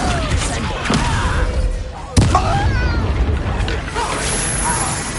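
A Confringo spell explosion in the video game Hogwarts Legacy lands as a sharp, sudden boom about halfway through, amid game sound effects and voices.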